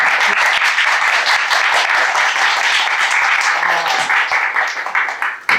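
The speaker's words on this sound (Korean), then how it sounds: "다시 한 번 더 열심히 낭독해주신 두 낭독자분들께 뜨거운 박수 부탁드립니다." Warm applause from a literature-week audience honouring two readers after a reading of The Old Man and the Sea; loud, dense clapping that holds steady, then thins out and fades near the end.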